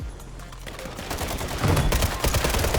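Gunfire in the video game Warzone, dense rapid bursts of shots that build in loudness and grow more intense toward the end, with no talk over them.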